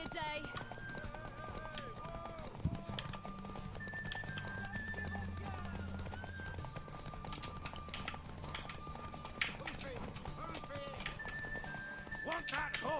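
Horse hooves clip-clop steadily with occasional neighs in The Witcher 3, mixed with game music and effects, while someone talks over it.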